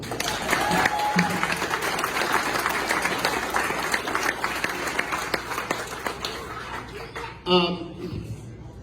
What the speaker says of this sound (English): I want to make sure that you give a round of applause to one of my best friends